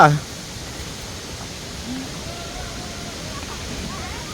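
The Tad Yuang waterfall in Laos gives off a steady, even roar of falling water, constant and full throughout, with faint voices of visitors beneath it.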